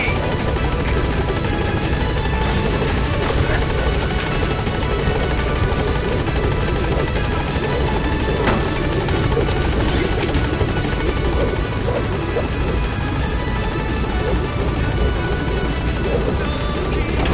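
The Pequod helicopter in Metal Gear Solid 5 arriving at the landing zone, its rotor roar loud, continuous and close throughout, with faint thuds mixed in.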